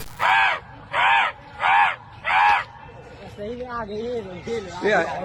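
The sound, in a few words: crows cawing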